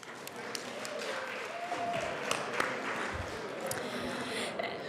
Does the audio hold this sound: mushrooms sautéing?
no